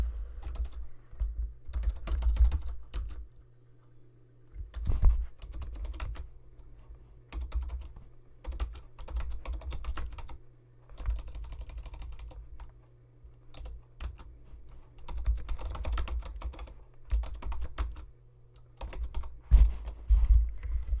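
Computer keyboard typing in irregular bursts of quick clacks with short pauses, moderately close, against a low steady background hum, no voices.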